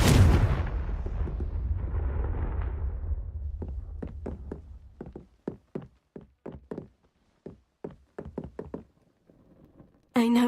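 A Confringo fire spell from Hogwarts Legacy bursts in a loud rumbling blast that decays over several seconds, followed by a run of sharp knocking impacts and a final abrupt burst.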